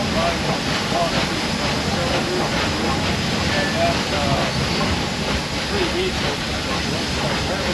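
Nickel Plate Road steam locomotive 765 runs with its throttle eased, giving a loud continuous rumbling hiss with a faint rhythmic chuff, heard from the cab over steady mechanical roar and a voice speaking.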